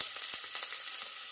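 Onions frying in hot oil for paneer butter masala, a soft steady sizzle with light crackles and stirring, fairly quiet.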